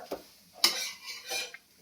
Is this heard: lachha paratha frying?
yes